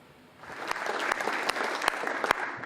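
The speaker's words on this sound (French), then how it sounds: "Ces applaudissements témoignent de la satisfaction générale des collectivités" An audience of local officials and technicians at a meeting on flood management bursts into applause. The clapping rises quickly from a quiet start to a full, steady patter with a few sharp individual claps standing out.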